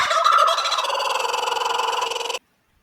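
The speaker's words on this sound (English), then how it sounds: "I like the kookaburra song too" A kookaburra's laughing call, loud and close, a fast run of pulsed cackling notes that holds for about two seconds and then stops abruptly into silence.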